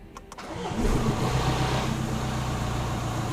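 A Jaguar XF, just repaired, cranks briefly and fires straight up, settling into a steady, fairly loud idle with a low rumble close by.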